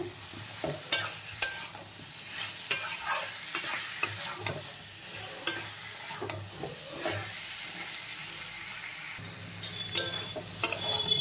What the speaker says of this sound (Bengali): এখন আমি এর মধ্যে ভেজে রাখা আলু আর বেগুন দিয়ে দিলাম। দিয়ে আরেকটু ভালো করে কষিয়ে নেব।